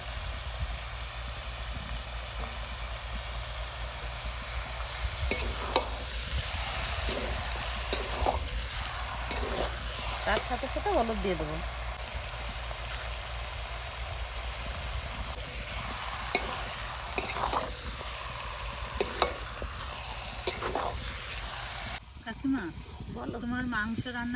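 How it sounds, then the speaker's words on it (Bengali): Meat frying in spiced oil in a pan, a continuous loud sizzle with stirring and scraping, occasional clatter of a spoon, and a voice speaking intermittently over the cooking. "মশলার তেল ছেড়ে দিয়েছে এবার মাংস দিয়ে দেবো"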